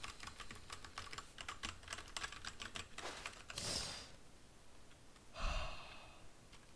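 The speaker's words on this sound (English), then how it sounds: "I'm just like pressing every button on my keyboard." Someone mashes every button on a computer keyboard, a fast, dense clatter of key presses for about three seconds, then a few sharp breaths in a quiet room.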